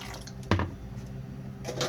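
Soup stock poured into beaten eggs for rice porridge, a short liquid splash and trickle with a sharp onset midway, moderately close, followed by quieter dripping.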